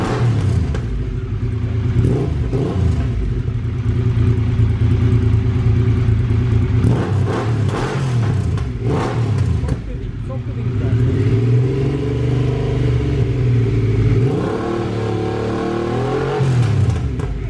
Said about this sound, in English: Before trying the exhausts on this Triumph Thunderbird 900